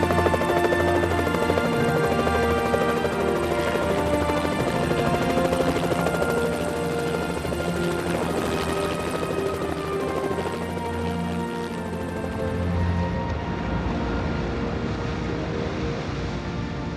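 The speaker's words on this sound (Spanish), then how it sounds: "a nuestro helicóptero le cuesta un enorme esfuerzo el ascender." A helicopter labours upward along steep sea cliffs on the coast of Bizkaia, its rotor throb and engine whine loud and sustained for the whole stretch, the pitch wavering slightly as it climbs.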